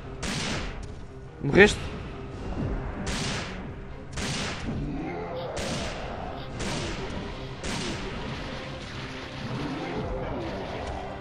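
Magnum revolver fire in the Resident Evil 3 Nemesis video game: about seven heavy, booming shots at a steady pace over game ambience, with someone speaking briefly.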